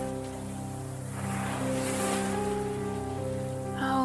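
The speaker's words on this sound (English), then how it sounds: "The crashing of the waves, and the feel of the wind." Steady broadband wash of surf from the sea crashing against jagged rocks far below a high ocean overlook, a continuous roar swelling slightly midway with gusting wind mixed in.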